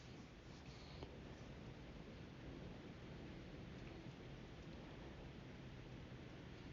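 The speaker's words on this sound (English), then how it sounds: "It's been pretty heavy rain too." Heavy rain falling steadily in Kansas City, a dense, continuous broadband hiss that stays loud and even throughout with no pauses, no talk and no distinct single drops standing out.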